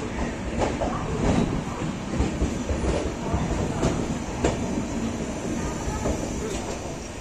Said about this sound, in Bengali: আমাদের ট্রেন এই মুহূর্তে পৌঁছে গেল হচ্ছে যাত্রাপথের দ্বিতীয় স্টেশন খড়গপুর জংশন